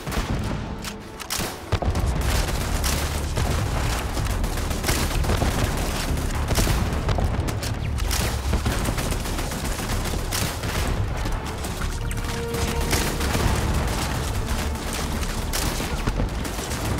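A loud, sustained firefight against a gang in the space game Starfield, with rapid gunfire and booms packed densely and continuously from the first couple of seconds onward.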